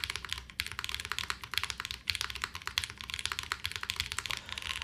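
Rapid, crisp typing on a Wind Z75 mechanical keyboard with no foam inside, continuous clicky keystrokes close up with a light, bright clatter and no talking.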